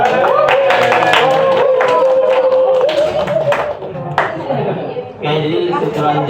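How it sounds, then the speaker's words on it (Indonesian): Audience applause at an Islamic public speaking seminar, with dense clapping and crowd noise mixed under continuous talk and a steady tonal background throughout. "mari kita beri tepuk tangan yang meriah kepada Kak Alfa"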